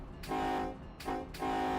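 A locomotive horn sounds in Run 8 Train Simulator on a heavy oil train crossing Tehachapi, three short toots in a row, moderately loud over a low engine rumble.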